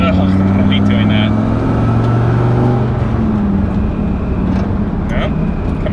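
A Dodge Viper engine hums loud and close in the cabin while the driver shifts from second to third gear without the clutch. The engine tone steps down as it runs on, with faint clicks on top.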